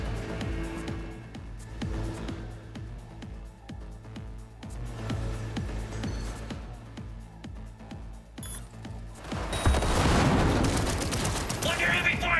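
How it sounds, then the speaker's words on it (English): Heavy gunfire in Cyberpunk 2077: rapid crackling shots repeat over a pulsing game soundtrack, then a louder, denser burst of fire with shouting voices near the end. "Under heavy fire!"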